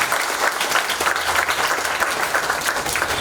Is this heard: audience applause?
yes